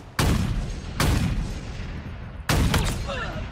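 Three heavy gunshots go off in a video game shooter, each one a sudden loud boom followed by a long rumbling tail. They are spaced unevenly, and faint voice-like sounds come after the last shot.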